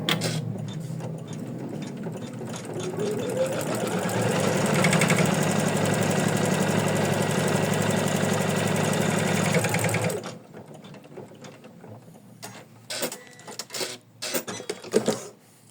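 An embroidery machine stitches felt onto an in-the-hoop heart design, a fast, steady mechanical whirr up close for about ten seconds, then stopping, followed by quieter scattered clicks and handling noises.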